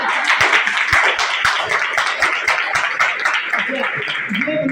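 Audience clapping at a networking training session, a dense burst of claps from a crowd running steadily throughout at close range, with talk mixed in.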